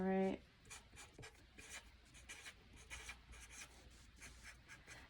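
Pen writing by hand on a scrapbook page, a series of close, soft scratchy strokes in uneven short bursts, following a brief tonal beep at the start, with a person speaking quietly.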